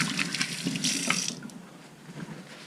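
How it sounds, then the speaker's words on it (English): Tap water runs into a kitchen sink to rinse a finger while a quiche is being made, a close, splashy stream that steadies and then tapers off to quieter trickling. "Rinse my finger."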